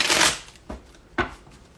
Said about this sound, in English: you guys are needing extra shuffles on my decks